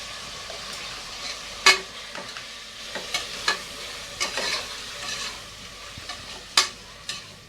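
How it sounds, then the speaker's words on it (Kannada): Ginger garlic paste and onion fry in a pan for chicken pulao, a low steady sizzle broken by sharp intermittent scrapes and clinks of a stirring spoon against the pan. "ಪೇಸ್ಟೆಲ್ಲ ಹಸಿ ವಾಸನೆ ಹೋಗೋವರೆಗೂ ಹುರ್ಕೋಬೇಕು"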